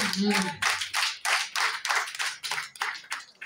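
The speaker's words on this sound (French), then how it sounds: "Applaudissez pour le Seigneur" A congregation claps in a steady, rhythmic beat during a church service, loud and close, with a brief voice at the very start.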